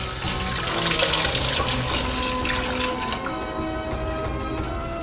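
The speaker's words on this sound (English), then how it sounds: "I'm going to add water now," About a liter of water pours steadily into a pot of Moroccan harira soup, a continuous close splashing stream with a slight drop in tone as the pot fills.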